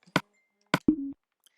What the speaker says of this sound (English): sorry if you hear my phone. I thought I had that muted